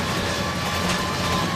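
A tram rumbles steadily along its rails during a chase in the video game L.A. Noire, a continuous low mechanical roar with broadband rattle and no voices over this short stretch.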